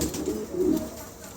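A pair of pigeons offered for sale gives a short, soft, low cooing call close by, brief and quiet with no voices over it.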